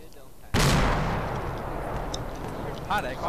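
Mortar fire in a military video game lands as one loud, booming blast that rolls off into a long rumbling decay, with voices talking over the radio.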